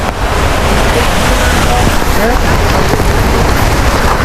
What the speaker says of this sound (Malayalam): ഈ വെള്ളം വന്നിടിക്കുമ്പോൾ നല്ല രീതിയിൽ ഓളം തട്ടുന്നതും തിരയടിക്കുന്നതൊക്കെ കാണാം